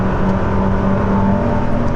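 A Ferrari SF90 plug-in hybrid supercar runs with a steady, loud engine drone close by, holding a constant whirring roar throughout with no talking.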